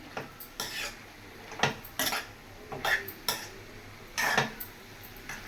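A spoon scrapes and clinks against a pan while ginger garlic paste is stirred into mutton liver, with irregular metallic knocks at close range and no talk.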